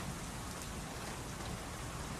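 Steady rain hisses evenly across the clip, a dense continuous patter with no other sounds.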